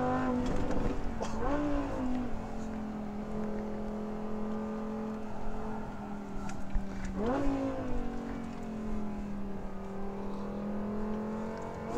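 An Audi R8 V10 drives on a race track behind a McLaren 600LT, heard from inside as a steady engine drone with two rising surges as the revs climb.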